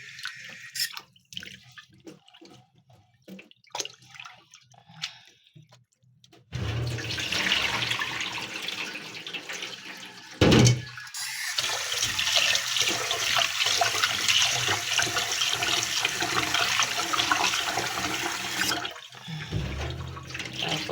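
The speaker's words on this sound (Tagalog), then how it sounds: "Ano, hugasan natin ang malagkit." Glutinous rice is washed in water: scattered drips and small splashes at first, then a long, steady rush of flowing, churning water, briefly interrupted, continuing close and loud with no voices.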